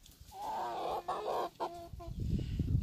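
Several chickens cluck in a run of harmonic calls with short breaks, close by in the mountains of Crete, then fade into a low rumble of background noise.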